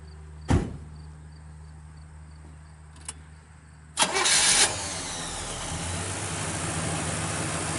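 A rebuilt 1971 Chevrolet Monte Carlo engine cranks with a clunk and click, then fires up and settles into a steady, loud idle, no talking.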